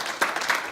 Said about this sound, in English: One round of applause for all the students here